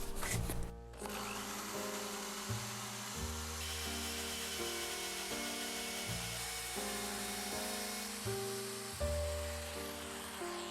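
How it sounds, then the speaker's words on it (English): A power drill in hammer mode whirs steadily, its pitch shifting in stepped bursts as it runs and bites, loud and close with no talking. "apparently the drill has to go on the, like, what's the name of that? Hammer mode?"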